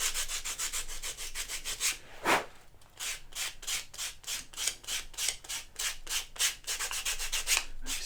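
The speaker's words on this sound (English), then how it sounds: "just go over again with sandpaper, just very lightly, just to take off any" Sandpaper rubs lightly over leather edges in quick, even back-and-forth strokes, a close, rhythmic scratchy whisper with one brief harsher scrape partway through.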